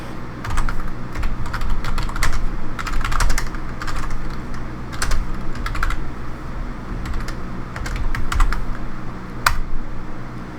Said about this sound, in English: let me retype this out real quick